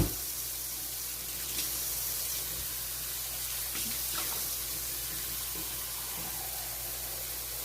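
Warm water runs steadily from a kitchen tap for making focaccia dough, a close, continuous hissing flow without pauses or speech.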